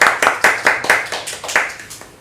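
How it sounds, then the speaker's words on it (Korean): A small group claps together in a quick, slightly uneven run of about ten sharp hand claps, close and loud, fading off at the end. "먼저 스스로를 위해서 박수를 보내고 시작하겠습니다"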